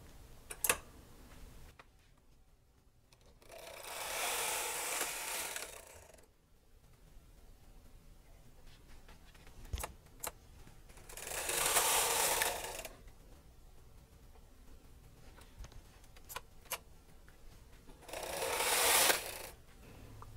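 Brother 260 knitting machine working a shawl collar: three loud rasping carriage passes sweep across the bed, separated by quiet gaps with sharp clicks and ticks of the mechanism.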